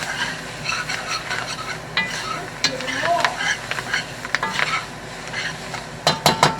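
Creole catfish sauce sizzles in a hot pan while a spoon stirs and scrapes through it, with busy crackling and several sharp metallic clanks toward the end.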